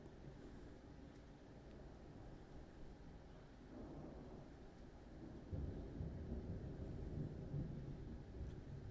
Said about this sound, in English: Watch the thunder come.